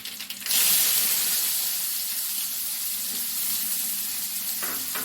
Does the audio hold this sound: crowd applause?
no